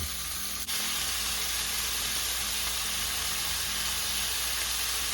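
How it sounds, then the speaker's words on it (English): Beef chunks for mechado stew sear in a hot pan with a steady, close, bright sizzle that holds evenly throughout, with a brief clatter near the start and no talking. "we're continuing to sear our meat here"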